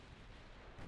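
Secondary guns firing on a destroyer during a naval battle in Ultimate Admiral Dreadnoughts, a low rumbling barrage of distant gunfire that swells into a louder boom at the end, with no talking.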